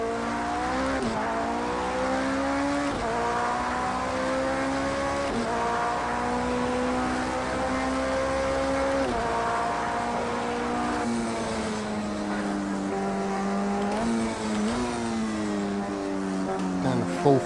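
Porsche 919 Hybrid race car engine in Project Cars 2 on the Nurburgring Nordschleife: a loud, continuous engine whine that climbs and drops sharply through repeated gear shifts.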